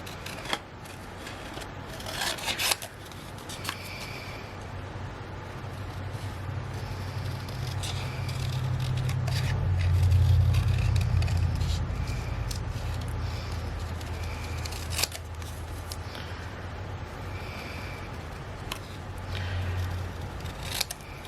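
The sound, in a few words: scissors cutting out a paper wolf card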